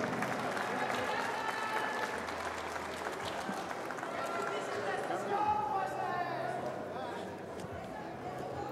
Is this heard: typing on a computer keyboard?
no